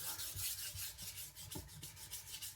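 A Victorinox Chinese cleaver is being sharpened on a Naniwa whetstone, giving a soft, steady rhythmic rasp of steel stroked back and forth across the stone, up close and without talk.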